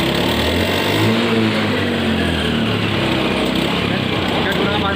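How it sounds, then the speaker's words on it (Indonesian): A Honda motorcycle with PGM-FI fuel injection runs steadily close by, a loud continuous engine drone with slight rises and dips throughout. "kita hidupkan lagi mesin motor sampai tidak menghidup lagi"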